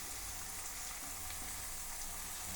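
Onion and tomato frying in a pan for a spicy Telugu country chicken fry, a steady loud hiss and sizzle of hot oil that holds level throughout with no voice.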